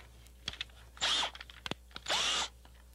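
A drill with a keyless chuck drives a screw into a door in two short, loud whirring bursts, with small clicks and taps between them.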